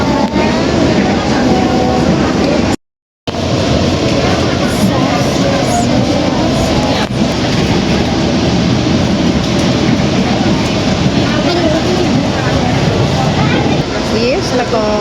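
Steady rumble of a passenger train heading to Solo in East Java, near Madiun station, with continuous wheel and carriage noise filling the whole stretch and a brief dropout early on; people chat in the background.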